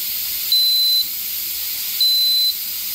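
An electric pressure canner gives two steady high beeps about a second and a half apart over a continuous soft hiss of venting steam.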